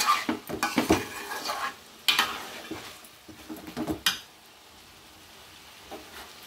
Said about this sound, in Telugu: చికెన్ వేగుతుంది కదా